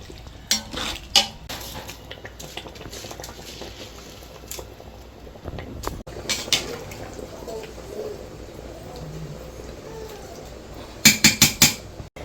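Rice goes into a pot of simmering mutton biryani and is stirred, with scattered scraping and clinking of a spoon against the pot, a soft bubbling underneath, and a quick burst of metallic taps near the end.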